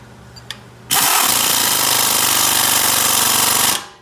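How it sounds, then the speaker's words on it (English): A small impact wrench hammers on a sway bar link of a Chevy Equinox, giving one loud, continuous rattling burst of about three seconds that starts abruptly and winds down at the end, close to the listener. "I'm going to use the little impact because the big one has too much torque"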